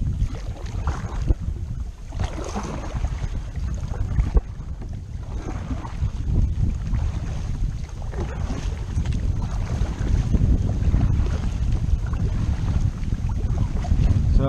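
Steady wind gusts buffet the microphone on an open reservoir from a kayak, a continuous low roar with water lapping faintly underneath and no talking.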